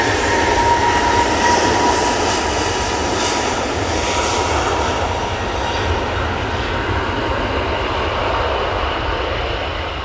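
An EasyJet airliner rolls for take-off at Manchester Airport, its engines roaring in a loud, sustained, broadband rush that holds steady throughout, with no voices.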